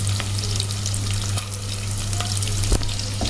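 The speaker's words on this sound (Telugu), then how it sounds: "స్టవ్ మాత్రం సిమ్లోనే పెట్టుకొని ఇవి ఫ్రై చేసుకోవాలి" Onions and cashews sizzle in oil in a pan on a low flame, a steady close crackle and hiss with an occasional stir or clink from the utensil, no voices.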